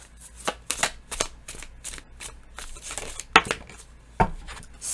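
Tarot cards are shuffled and drawn by hand, making a run of sharp, close flicks and snaps of varying loudness with brief pauses between them.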